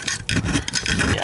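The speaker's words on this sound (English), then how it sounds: "So just scraping the Kirby cake out of here." Scraping caked dirt and debris out of a Royal 4000 upright vacuum, a steady close rasping scrape with repeated rubbing strokes, no talking.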